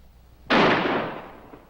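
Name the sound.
gunshots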